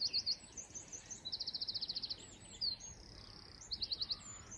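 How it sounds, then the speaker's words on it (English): Small birds call around Mount Snowdon in the morning: bright, rapid chirping trills repeat in short bursts over a faint outdoor hush, fairly distant and with no voices. "Listen to the crows, listen to the bees."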